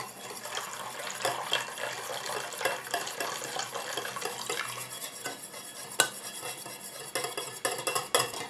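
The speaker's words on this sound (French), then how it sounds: "Je prends ma phase aqueuse que je vais incorporer petit à petit à ma phase huileuse tout en mélangeant." A utensil stirs a water phase into an oil phase for a homemade anti-callus foot cream emulsion, giving a steady close scraping and clinking against the bowl, busy and continuous with small splashy knocks.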